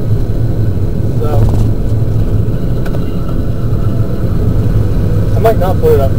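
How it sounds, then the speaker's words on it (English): A Kawasaki Mule utility vehicle with a cold transmission shifting into second gear, its engine droning steadily and loudly up close, with a couple of brief mechanical clunks along the way. "second gear is actually working today, so I don't know if you guys can hear the funny noises when it goes in or not"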